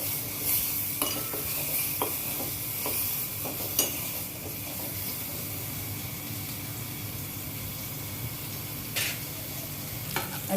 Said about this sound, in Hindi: जो मैंने मसाला पीसा है ये मैं डालती हूँ। इसको तेल में थोड़ा ऐसे मैं मिक्स करूँगी।